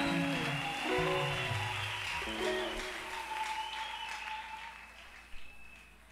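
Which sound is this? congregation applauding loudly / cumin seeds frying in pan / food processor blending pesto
congregation applauding loudly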